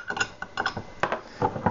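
A metal anchor lock device for securing outdoor property is taken apart, giving a quick run of close metallic clicks, clanks and rattles in uneven bursts with no talking.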